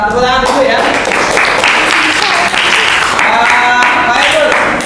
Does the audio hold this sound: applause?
yes